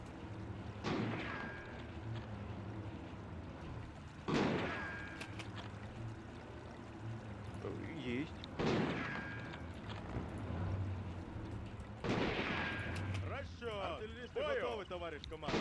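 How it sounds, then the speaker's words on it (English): A light gun shells a house in the World War II strategy game Sudden Strike Gold, with four loud, widely spaced blasts ringing out between stretches of battlefield noise while someone talks over them. "Bring a light gun up here. We'll just shell this house."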